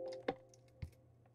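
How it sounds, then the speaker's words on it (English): Two hard clattering knocks a half second apart as a small plastic glue bottle lands on a computer keyboard, close and sharp in a quiet room. "I just threw my glue on my keyboard"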